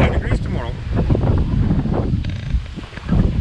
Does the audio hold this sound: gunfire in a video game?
no